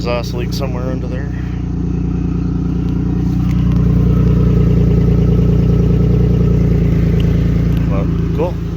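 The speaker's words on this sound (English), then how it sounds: "Sounds like we got an exhaust leak somewhere under there." A Jeep engine idles steadily and loudly up close, with a low throbbing rumble and a raspy exhaust leak, while someone talks over the running engine.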